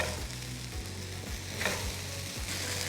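Mangalorean anjal fish and curry leaves fry in hot oil, a steady close sizzle and crackle running throughout with a faint low hum underneath.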